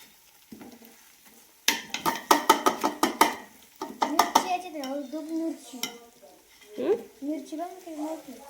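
Onion, tomato, green chili, ginger-garlic and whole spices hit a hot pan for biryani, with a burst of clattering pan and spoon knocks, then stirring and sizzling while someone talks over it.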